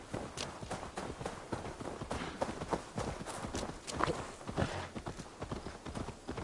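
Horse hooves in the video game Assassin's Creed Valhalla: a rhythmic clip-clop of a ridden horse moving at a quick pace, with evenly spaced, close hoofbeats and no talking.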